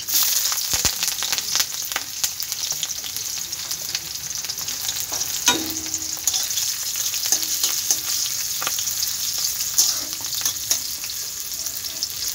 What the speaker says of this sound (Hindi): तो इसको हम अच्छे से फ्राई करेंगे।